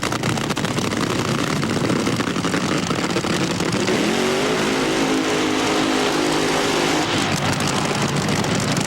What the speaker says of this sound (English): Mike Dunn just annihilating those 17-inch wide Goodyears with just a flick of the throttle